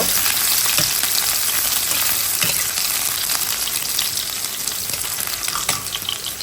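Onion fries in hot oil in a pan for a mustard hilsa curry, with a loud, continuous close-up sizzle and crackle and occasional stirring scrapes, and no voices.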